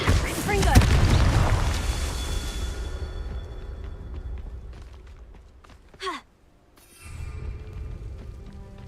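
A Confringo explosion spell in the Hogwarts Legacy video game bursts with a loud booming blast that rumbles and fades over a few seconds, followed by a faint sharp effect and a renewed low rumble.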